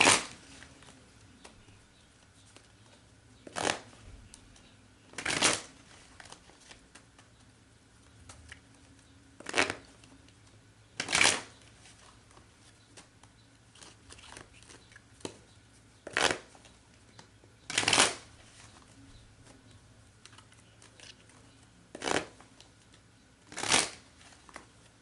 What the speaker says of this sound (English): I'll go ahead and shuffle, focusing on the first question.